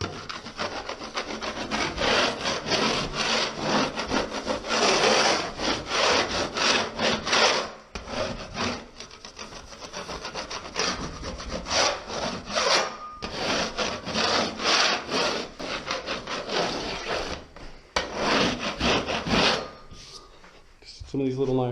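A steel knife scrapes dried skim coat off a ceiling in long, repeated rasping strokes, gritty and close, with short pauses between passes and occasional quiet talk.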